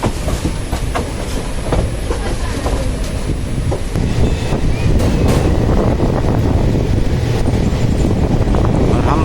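The Uttaranchal Sampark Kranti Express runs steadily along the rails near Moradabad, a loud continuous rumble with rhythmic wheel clatter and wind buffeting the microphone throughout, with no voices.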